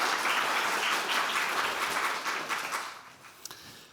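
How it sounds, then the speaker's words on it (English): An audience at a book presentation at the Wende Museum greets the speakers with dense, full applause that thins out and fades toward the end, leaving a few scattered claps. "Please give them an applause."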